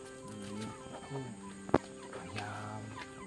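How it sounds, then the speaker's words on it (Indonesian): Frizzle chickens and a brooding hen clucking close by, a run of soft, low, repeated clucks and murmurs with one sharp louder knock midway, no talk. "Katanya ada yang ayam bulu balik."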